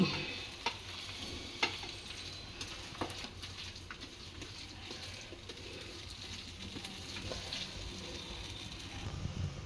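Roasted brinjal chutney being stirred with a spoon or two of oil, soft scraping and clicking of a utensil in a bowl, quiet and close, with faint background ambience.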